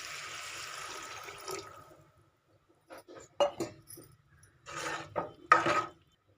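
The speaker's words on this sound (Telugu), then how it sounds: "దీంట్లో ఒక గ్లాస్ వరకు వాటర్ పోసుకోవాలి ఇప్పుడు ఇప్పుడు వాటర్ పోసుకోవాలి" Water poured from a glass into a pan of potato kurma (aloo kurma) in a home kitchen, a short splashing pour followed by a pause and then clinks and splashes of stirring utensils, close and fairly quiet.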